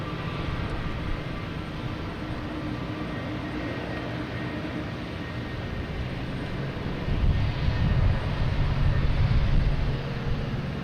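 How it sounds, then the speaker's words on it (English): Frontier Airlines jet airplane at Boston Logan Airport gives a steady, broadband engine roar heard at a distance, swelling slightly louder toward the end. "Oh, we got Frontier Airlines coming out."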